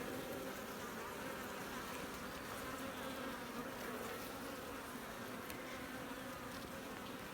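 Honeybees hum in a dense, continuous drone over an open hive's capped brood frame, close and steady throughout with no voices.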